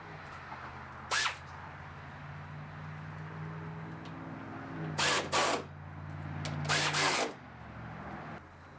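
A power tool tightens hood hinge bolts on a wrecked Grand Am SCT being rebuilt in a driveway, heard as three short bursts of whirring and ratcheting, fairly close, over a low steady hum.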